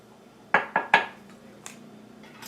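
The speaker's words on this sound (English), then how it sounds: "And then we're going to cut the butter into our flour mixture." Three quick metallic clinks of a utensil against a bowl while butter is cut into a flour mixture, close and sharp, followed by fainter light taps.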